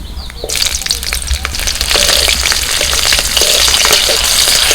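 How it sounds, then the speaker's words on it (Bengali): Black cumin seeds and green chillies hit hot oil for a Bengali fish curry tempering, bursting into a loud, steady sizzle that thickens and stays continuous throughout, with faint crackles and no talking. "মাছের ঝালটা করবো ফোড়ন দিচ্ছি কালো জিরে কটা কাঁচা লঙ্কা"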